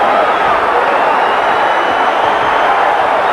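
A boxing crowd at a junior middleweight bout between Duran and Bayonnes Nino Gonzales roars steadily and loudly throughout, a dense unbroken wall of cheering with a commentator talking over it.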